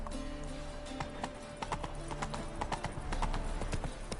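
Horse hooves clip-clop steadily in The Witcher 3 video game, a run of close, crisp strikes over a continuous ambient bed of wind and game music, with a faint whinny possible and no talk.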